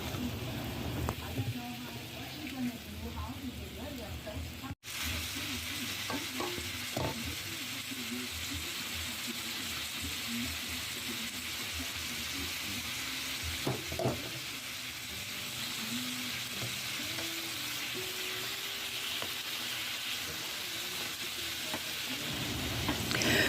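Steak bites frying in a pan, a constant crackling sizzle with occasional clinks and scrapes of stirring, heard close over the full stretch, with a voice speaking faintly at times.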